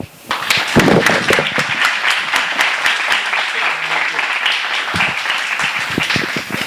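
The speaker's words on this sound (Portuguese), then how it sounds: "Mais uma salva de palmas para Catarina Rochamonte, que abrilhantou o nosso congresso." An audience at a congress applauds speaker Catarina Rochamonte, breaking into loud, dense clapping after a brief quiet moment and keeping it up with sharp individual claps and a few voices underneath.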